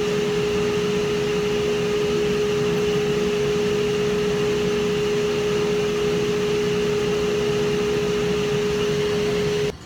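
Dust suction running on a table saw in a workshop, a steady loud whooshing hum with a constant tonal whine, unbroken for the whole stretch and cutting off at the end.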